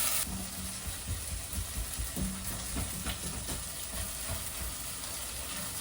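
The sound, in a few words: seasoning sizzling while frying in pan for lasagna bolognese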